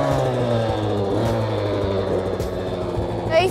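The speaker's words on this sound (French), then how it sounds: "Il fait chauffer la moto pour que ce soit plus facile pour moi pour la démarrer après" A motorcycle engine being revved to warm it up before a start at the Touquet, with strong harmonic tones rising and falling in repeated blips over a steady idle, close and loud.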